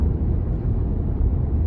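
Alfa Romeo Giulia Quadrifoglio cruising on the Angeles Crest Highway, heard from inside as a steady low engine and road rumble with no talking, constant in level throughout.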